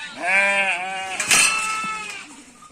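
Lambs bleating nearby, a couple of loud wavering cries one after another, with a faint shuffle between them.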